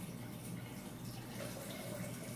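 Tap water gushes steadily into a rice pot to rinse sushi rice, a faint, continuous splashing rush with no voices over it.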